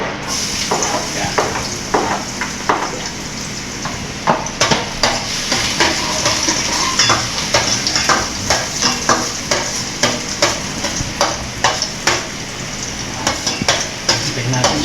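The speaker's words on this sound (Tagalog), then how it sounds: "So syempre magbigisa muna tayong bawang" Garlic sautés in hot oil as the first step of a chicken curry, with a steady sizzle throughout and frequent scraping and stirring clinks from a pan, plus a few faint voices in the background.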